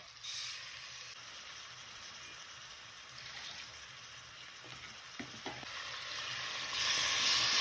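Marinated chicken frying in a pot for Arabian chicken mandi biryani, giving a steady close sizzle and hiss with a few sharper crackles and stirring scrapes, growing slightly louder toward the end.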